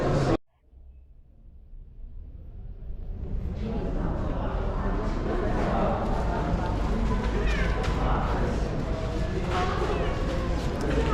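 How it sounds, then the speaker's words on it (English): A temple cat meows inside Luxor Temple in Egypt, heard amid steady crowd chatter and echoing footsteps in the ancient stone sanctuary; the meows are brief and partly masked by the busy background. "I just heard a temple cat."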